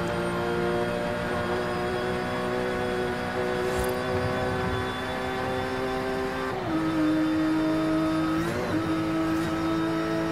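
A Subaru SVX engine in Forza Horizon 5, tuned to 3.6 litres, drones at a steady high pitch, then shifts gears twice with quick dips in tone, revving up again each time, loud and close.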